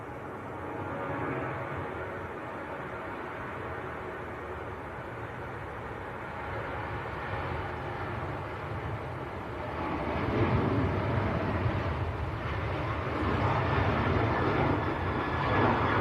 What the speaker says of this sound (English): Ryanair to Malaga on the roll.